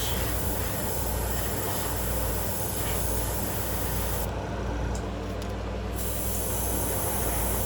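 An airbrush sprays a light coat of paint onto a crankbait fishing lure in a steady, close, continuous hiss. The spray runs almost unbroken and eases briefly partway through.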